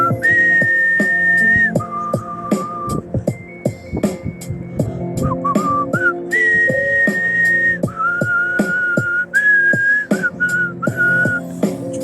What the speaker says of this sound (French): laisse-moi siffler